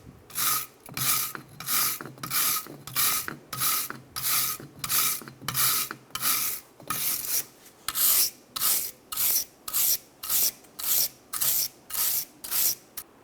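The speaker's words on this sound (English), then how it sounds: "Using a wire brush, I'm going to clean the contacts since they're very rusty." A wire brush scrubs the rusty parking-brake shoe contacts on a 2007-2012 Nissan Altima in rapid back-and-forth rasping strokes, about twenty evenly spaced bursts of harsh bristle scraping, close and alone.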